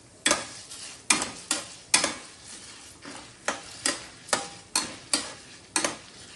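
Chana dal and fenugreek seeds fry in oil for a pulihora pulusu tempering, with a spoon scraping the pan in a steady rhythm of about a dozen strokes over a faint, continuous sizzle.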